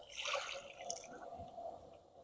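Water poured into a stone mortar to rinse it while cooking a fermented bamboo shoot curry, a soft, faint splashing and trickling nearby, heard alone.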